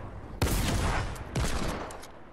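Two bursts of rapid Fortnite gunfire, the first just under half a second in and the second about a second later, each a loud dense volley that rings out briefly, with no voices.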